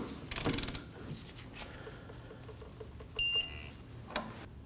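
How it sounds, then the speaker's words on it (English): A torque wrench ratchets in quick small clicks while tightening a control arm link nut on a 2011-2016 Kia Optima, faint and close, followed by a short sharp electronic beep as the set torque is reached. "Now we can go ahead and torque down the link to 87 foot-pounds."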